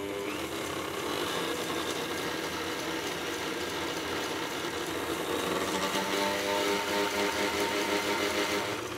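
Electric mixer whipping egg whites for an apricot soufflé, a steady motorized whir that picks up speed and grows slightly louder toward the end, without talk.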